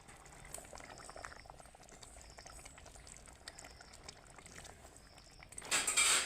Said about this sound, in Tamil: ஒரு பத்து நிமிஷம் கொதிக்கட்டங்க